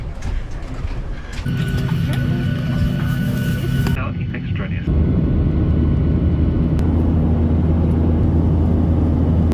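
Airport boarding area for a flight to Edmonton, where a steady, loud mechanical drone of aircraft and ventilation fills the space, shifting in level partway through, with voices murmuring over it.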